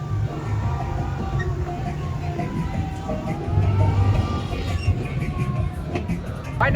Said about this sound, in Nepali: सानो ट्रेन पनि छ यहाँनिर बच्चाहरूको लागि।